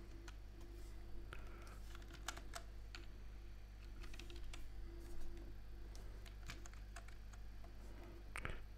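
Fingers tap on a computer keyboard in soft, close, irregular clicks spread over several seconds, with a low steady hum underneath.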